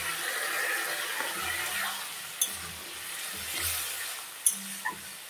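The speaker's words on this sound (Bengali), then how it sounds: "এখন আমি অল্প করে জল দিয়ে দেব" Water poured a little at a time into okra curry in a hot pan, a soft continuous hiss and sizzle with a few small clinks, close and fairly quiet.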